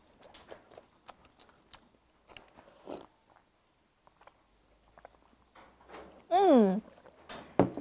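Oil-braised crayfish being eaten: scattered soft bites, small shell cracks and chewing noises close to the listener, with brief tonal whoops near the end.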